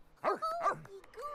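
A dog in The Sims 3 video game lets out a couple of quick, faint barks and yips, short sharp bursts under quiet game audio.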